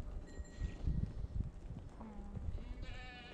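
Sheep bleating in a flock out in the Holy Land pasture, a few wavering calls over shuffling hooves and steady outdoor noise, with a faint voice in the mix.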